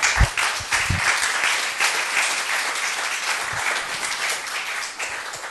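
An audience at a municipal planning presentation in Pordenone applauds colleagues from the planning department and administration, a steady, moderately loud patter of many hands clapping throughout.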